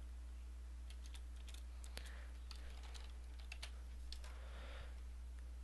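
Steady typing on a computer keyboard, a run of light, quick key taps close by in a quiet room with a low background hum.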